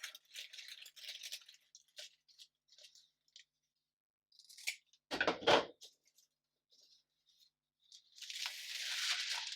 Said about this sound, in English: I'm just going to cut this border off.